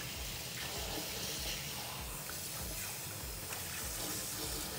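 Tap water runs from a Jaguar brand wash basin in a house, a faint, steady hiss of flowing water with no one speaking.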